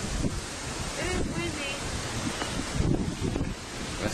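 Strong wind gusts buffet the microphone with a steady rushing roar, surf-like noise beneath and faint voices in the background.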